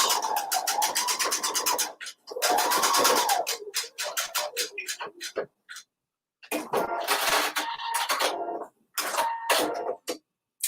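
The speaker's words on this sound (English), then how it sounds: "You can hand sew this part too, but I prefer to machine stitch" A sewing machine stitches fabric in loud, rapid mechanical bursts separated by short pauses, with a rising whir at times, close by and with no talking.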